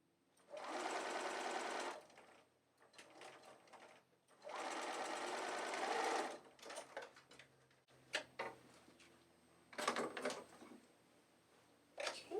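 A sewing machine runs in two long steady bursts while stitching a deep quarter-inch seam on a scalloped quilt binding, followed by softer clicks and handling knocks as the fabric is adjusted.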